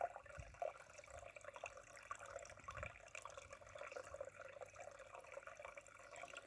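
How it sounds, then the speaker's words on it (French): Water flowing in a small stream near its spring, a faint, steady babble with soft trickling and occasional drips, heard alone at low level. "écoutez ce joli bruit de l'eau qui coule"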